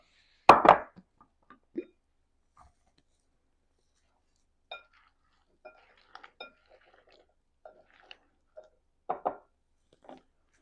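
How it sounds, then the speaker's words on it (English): Hot microwaved potatoes stirred in a bowl for mashing: one sharp clink near the start, then scattered light scrapes, taps and clicks of utensil against bowl, fairly quiet with gaps between. "Time to stir the potatoes and be careful because this bowl will be hot."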